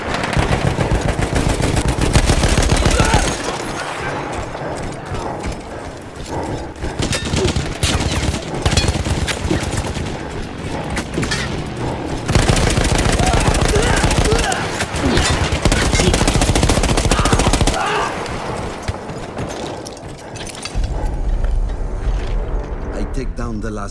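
Heavy machine gun in Battlefield 1, a World War I battle game, fires in long dense bursts with a rapid, rattling rhythm. The shots are loud and close, with short pauses between bursts and a voice talking over parts of the firing.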